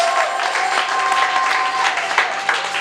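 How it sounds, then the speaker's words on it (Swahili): A congregation in a church claps for Jesus Christ: dense, loud, continuous applause for about three seconds, with a few sharper claps standing out near the end. "Acclamez pour mon Jésus-Christ."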